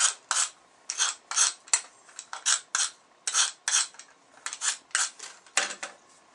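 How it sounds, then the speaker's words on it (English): An X-Acto knife scraped along the edge of a marble tile, giving a run of short, close, rasping strokes in a steady back-and-forth rhythm with brief pauses, no talk. "you can take a sharp knife or an X-Acto knife and just burnish it across"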